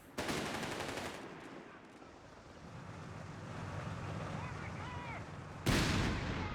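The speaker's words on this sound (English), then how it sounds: "The barrage coming out because they can do that every 20 seconds" Artillery barrage in the Company of Heroes 3 video game: heavy booming blasts open and close the stretch, with rumbling fire and crackling shots between them, under a commentator's voice.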